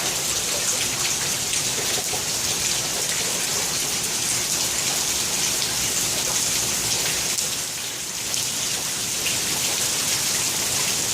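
Heavy rain pours steadily during a thunderstorm near a bridge, a dense continuous hiss of drops hitting surfaces with no break and no voices.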